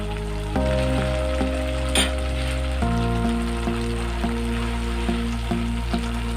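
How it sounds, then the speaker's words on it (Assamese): Gram flour (besan) frying in a pan, a continuous close sizzle with occasional stirring under background music. "বেচনটো যেতিয়ালৈকে ধুনীয়া গোন্ধটো নাহে তেতিয়ালৈকে আমি ভাজি থাকিব লাগিব"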